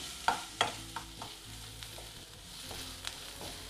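Chopped onion frying in oil in a pan for a paneer samosa filling, a quiet continuous sizzle broken by several sharp stirring clicks and scrapes, no voices.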